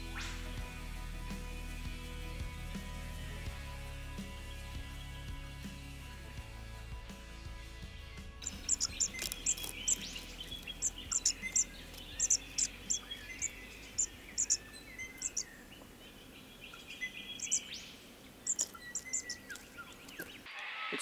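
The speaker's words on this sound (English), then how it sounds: "There are a lot of birds that nest within the reserve" In a wildlife reserve, insects keep up a steady background drone while repeated high chirping bird calls come in short bursts, fairly faint and moderately distant.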